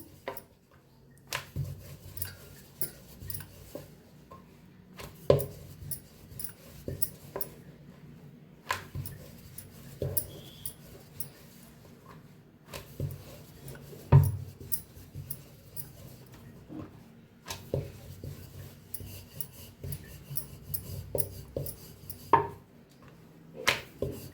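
Sweet peanut poli dough being rolled with a rolling pin, repeated irregular knocks and thumps of wood on the board in bursts, separated by brief pauses, close and clear.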